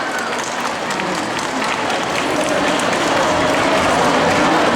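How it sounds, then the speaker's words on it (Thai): A crowd claps in steady, sustained applause that swells slightly toward the end, with voices faintly mixed in. "ขอเสียงปรบมือด้วยนะคะ"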